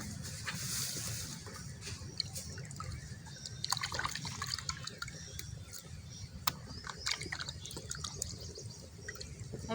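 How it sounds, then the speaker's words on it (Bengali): Water trickles and splashes steadily from a tap while rohu fish pieces are washed with salt, with small clinks and handling noises over the running stream, close by and fairly soft. "এই যে লবণ দিয়ে আমি আরেকবার ধুয়ে নেব"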